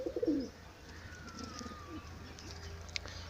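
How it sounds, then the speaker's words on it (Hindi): A sluggish, sick pigeon perched up close gives a short burst of soft cooing at the start, then a few fainter calls against steady low background noise. "जैसे अब आप देख रहे हैं यहाँ सामने एक कबूतर बैठा है"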